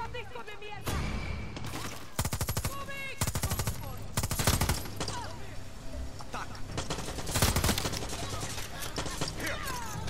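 Bursts of automatic gunfire rattle through a Far Cry 6 firefight, with dense broadband volleys coming in irregular clusters, some close and loud, over continuous game ambience and someone talking between them.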